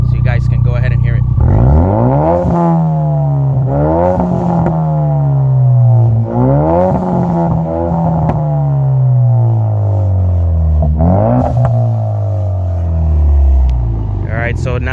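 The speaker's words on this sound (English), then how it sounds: "This is gonna be right at the exhaust, so you guys can go ahead and hear it." EcoBoost Mustang engine heard close at the tailpipe through an MBRP catted downpipe and full MBRP race catback exhaust, revving repeatedly with rising and falling pitch sweeps, loud and continuous with a deep rumble.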